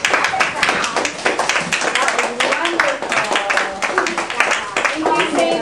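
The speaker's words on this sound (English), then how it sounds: "Can we give our visitors and William a big round of applause?" An audience claps for Sinterklaas visitors at a holiday gathering, a dense, lively round of applause lasting the whole stretch, with voices mixed in over it.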